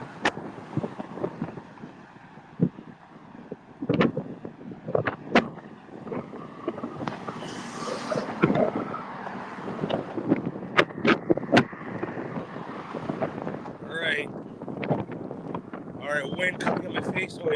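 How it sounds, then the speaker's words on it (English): Wind blowing hard into the face while walking across a bridge in Key West, a close, continuous rumbling buffet on the microphone with sharp gust spikes throughout, likely with some talk mixed in. "Wind coming in my face."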